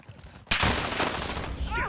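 Gunfire in Call of Duty Modern Warfare: after a brief quiet moment, a loud, sustained burst of rapid automatic shots from close range, running for over a second with a faint voice underneath.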